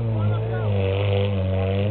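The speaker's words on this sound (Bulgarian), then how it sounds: "Газков мотор, 8 цилиндра бе." A gas-powered eight-cylinder engine in an offroad vehicle hums in a steady low drone, close and fairly loud, with voices talking over it.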